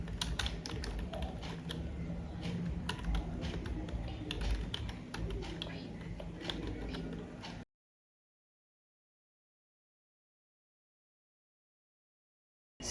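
Fast, steady clicking of keys as code is typed on a computer keyboard, close and continuous for several seconds before falling silent.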